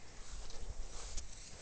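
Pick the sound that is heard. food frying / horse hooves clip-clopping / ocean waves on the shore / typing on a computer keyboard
horse hooves clip-clopping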